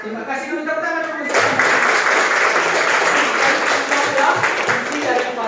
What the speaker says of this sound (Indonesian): Terima kasih dulu tepuk tangan dulu.